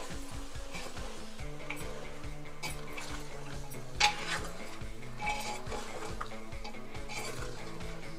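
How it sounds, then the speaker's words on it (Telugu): Utensil stirring goat head curry in a pot, with soft metallic scrapes and clinks repeating steadily under a faint watery bubbling, fairly quiet and close, with no talk. "సో ఇవన్నీ వేసిన తర్వాత మంచిగా కలుపుకోవాలి కదా."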